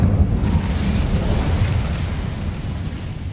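A fire spell cast in Hogwarts Legacy on PS5, a loud roaring burst of flame that rumbles steadily for a few seconds with no voices over it.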